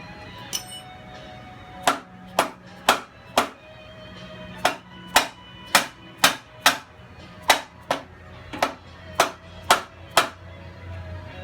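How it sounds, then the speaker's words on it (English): A rubber mallet taps on a Harley-Davidson EVO transmission during removal in a garage, giving about a dozen sharp, close knocks in a loose, fairly steady rhythm with short pauses between strikes. "Okay, time for the rubber mallet."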